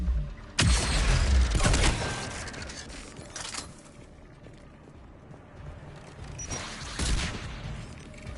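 Bursts of rocket fire in the sci-fi shooter Mass Effect 3, with a loud blast near the start and another around the two-second mark, then quieter mechanical rumble and a later burst.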